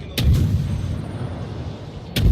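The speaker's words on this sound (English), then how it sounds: "this is a U.S. ship firing on another U.S. ship" Warship naval guns in the World of Warships video game fire two loud booming blasts about two seconds apart, with a low rumbling roar between them and no speech.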